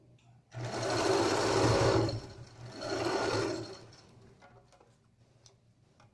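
A sewing machine runs in two fast, steady bursts while stitching a zipper onto a cushion, loud and close, then stops and leaves light handling clicks.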